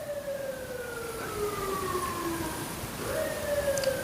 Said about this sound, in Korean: 아침부터 저 뭐지? 경찰차인가?